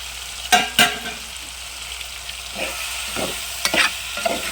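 Drumstick curry with salt, chili powder and turmeric being stirred in a pan, a few sharp scraping strokes of a spoon over a soft steady sizzle, heard close and alone.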